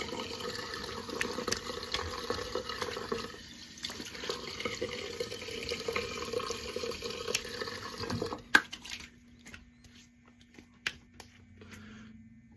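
Tap water runs steadily while a razor is rinsed under it. The flow cuts off after about eight seconds, leaving a few faint drips and small clinks in a quiet room.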